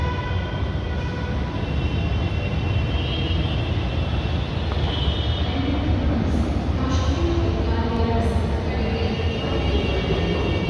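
Bangalore metro Yellow Line train at Huskur Road station, a steady loud rumble and whine of the running train that holds throughout with little change, with no clear talk over it.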